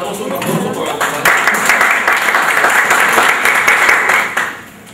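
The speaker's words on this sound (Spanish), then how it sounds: "Un aplauso para la compañera." Seminar attendees in a room clap for a participant, the applause swelling after a spoken introduction, holding full and loud for a few seconds, then fading out at the end.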